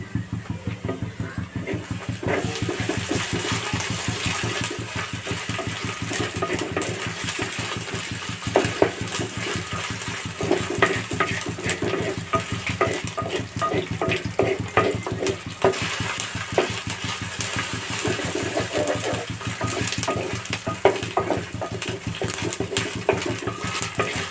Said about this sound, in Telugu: అల్లం వెల్లుల్లి పేస్ట్ పచ్చివాసన పోయిన దాకా వేగింది.